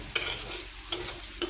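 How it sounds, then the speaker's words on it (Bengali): A spoon scrapes through potatoes frying in a pan, giving three sharp close stirring scrapes over a continuous soft sizzle. "এখন একটু নাড়াচাড়া করব।"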